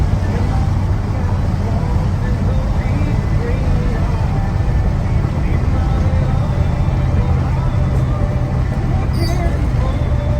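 A 1977 Ford F350 tow truck drives along, heard from inside as a loud, constant engine drone and road rumble with steady low tones throughout.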